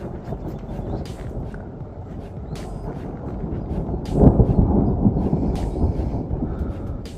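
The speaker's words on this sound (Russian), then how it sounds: "Сейчас гром будет." Thunder during the first thunderstorm of the season in Moscow, a deep rolling rumble that swells around the middle and lingers, heard outdoors over steady background noise.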